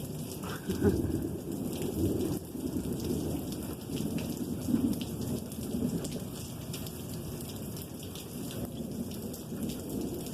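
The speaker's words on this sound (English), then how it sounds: "It started raining." Steady rain falls continuously, a dense hiss of drops on surfaces, close and fairly loud throughout with slight swells.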